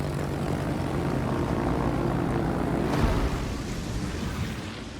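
Propeller engines of carrier aircraft droning steadily in a naval warship game, a loud continuous hum with a brief swell near the middle, no voices.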